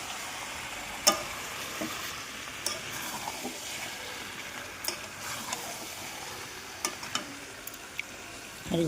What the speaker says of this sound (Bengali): আমার চিকেনটা প্রায় অনেকটা কষানো হয়ে গেছে।